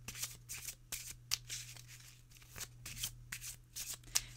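A deck of Wicca oracle cards is shuffled by hand close up, giving quick rhythmic riffling bursts and soft flicks over a low steady hum.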